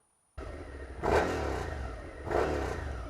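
A 2016 Suzuki SV650 motorcycle engine idles, then revs twice, the exhaust sounding muffled and subdued. The bike is close, with each rev rising and falling and no talking.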